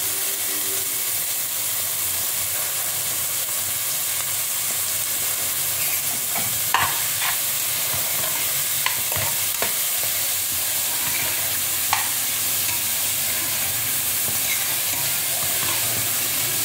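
Onion, garlic, beetroot and potato sauté in a pan with a steady, even sizzle and hiss, broken by a few soft clicks of stirring, with no talking.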